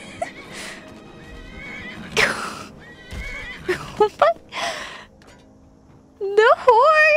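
A horse in the video game Skyrim neighs and whinnies loudly in rising, wavering bursts near the end, after scattered grunts, gasps and combat clatter.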